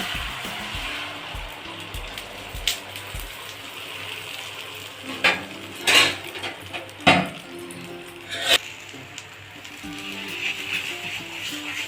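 An egg sizzling as it is scrambled in a frying pan, with a few sharp scraping clatters of a utensil partway through; no one speaks.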